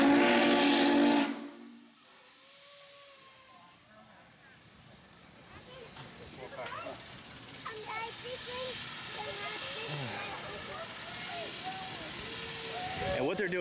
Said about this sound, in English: you can actually pay a fee to go up into this massive locomotive here and actually pull the horn